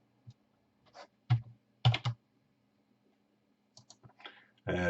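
Computer mouse clicks while design layers are merged for a 20oz UV tumbler, several sharp, close clicks scattered in small clusters across near silence.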